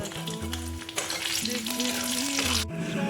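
Cashews and raisins frying in a little oil, a dense close sizzle with stirring, and a steady tonal hum underneath that starts and stops.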